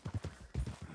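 Horse hooves clip-clop in a quick, steady rhythm within a Rancho roleplay video game, close and fairly quiet with no talk over them.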